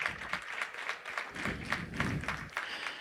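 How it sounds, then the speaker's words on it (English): An audience at an open market hog and breeding show at the Kentucky State Fair claps in steady applause for a few seconds, a dense, moderately loud patter of hands. "let's give them a big round of applause,"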